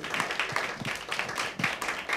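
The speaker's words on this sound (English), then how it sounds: "Give them a round of applause." A festival event audience breaks into steady applause, many hands clapping at once in a dense, continuous patter.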